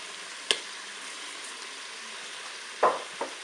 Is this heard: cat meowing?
no